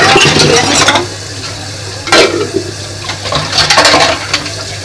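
Water runs loudly from a kitchen tap while a pile of dishes and pots is washed, a steady close splashing rush with brief surges and clinks, no talking.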